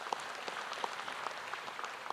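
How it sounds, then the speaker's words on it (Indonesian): Audience applause at a formal event honoring Detikcom, a fairly faint, continuous patter of clapping heard from a distance across a large room, with no talk over it. "Tepuk tangan untuk Detikcom saya kira."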